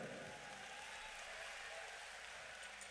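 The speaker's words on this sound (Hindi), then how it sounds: "तो इन पिता के लिए एक जोरदार ताली बजाइए।" Audience at a large religious gathering breaking into loud applause, a dense hiss of many hands clapping together, steady and distant-sounding, with faint voices beneath it.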